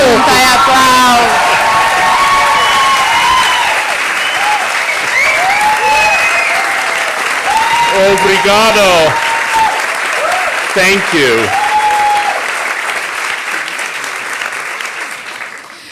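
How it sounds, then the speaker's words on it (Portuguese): A live podcast audience at an interview event applauds and cheers loudly, with whoops rising over dense clapping while a voice speaks briefly over the crowd; the ovation gradually fades toward the end. "Gente, aplaude mais, tá pouco, levanta e aplaude."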